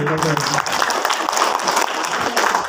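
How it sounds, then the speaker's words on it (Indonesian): Lively applause from an audience at an Islamic economics and IT training session for mosque council members in Indonesia, a steady dense clatter of clapping filling the whole stretch, with talk mixed in. "Kita beri aplaus yang paling meriah"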